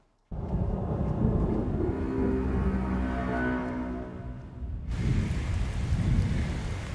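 Steady heavy rain pours down with a low rumble of thunder rolling underneath, the downpour shifting in intensity partway through.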